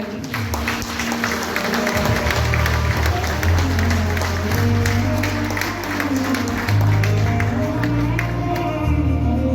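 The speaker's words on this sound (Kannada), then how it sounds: "ಮತ್ತಷ್ಟು ಜೋರಾದ ಚಪ್ಪಾಳೆ" An audience bursts into loud, sustained applause, dense clapping that holds steady with a low rumbling crowd murmur underneath.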